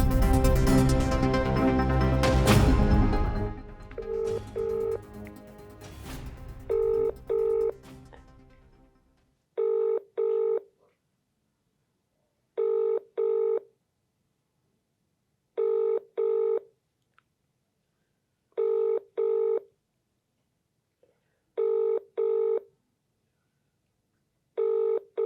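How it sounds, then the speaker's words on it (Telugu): A telephone call rings out unanswered: after a stretch of loud music, repeated paired ring tones sound at steady intervals against silence, six or more bursts with nobody picking up. "మీరు కాల్ చేస్తున్న వ్యక్తి సమాధానం ఇవ్వడం లేదు"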